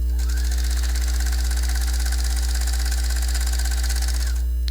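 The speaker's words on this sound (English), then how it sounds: "right now I'm just sewing the 2 layers of the waistband together" A sewing machine runs steadily, stitching two layers of a jeans waistband together; a continuous even mechanical whir with constant motor hum, close and alone, ending abruptly.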